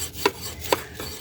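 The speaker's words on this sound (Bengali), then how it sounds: "আমার বাবজান হচ্ছে লাউটা কাটবে" A knife chops into a young bottle gourd out in a vegetable field on a foggy day, giving two sharp, close cuts with a short rasping scrape trailing off after them, and no one talks.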